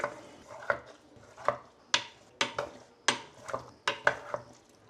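A spoon scrapes and clinks steadily against a pan on a lit stove as food is stirred, in quick, uneven strokes close up with no talk.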